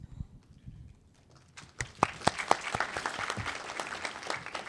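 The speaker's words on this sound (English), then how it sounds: "They're clapping for people who like kissing, just in case you're wondering." Audience clapping at a Cincinnati Comic Expo 2015 panel: quiet murmuring at first, then applause swells into a dense, sustained burst of many hands, with a few loud individual claps standing out near the front.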